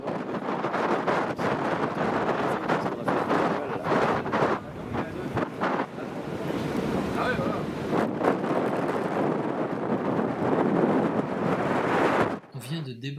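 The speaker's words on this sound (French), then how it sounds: "On vient de débarquer malgré le vent et les vagues." Loud gusting wind buffets the microphone with a continuous roar of crashing waves and rushing water close by, during a landing ashore in Spitsbergen.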